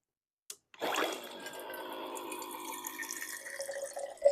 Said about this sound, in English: We're gonna pour water mindfully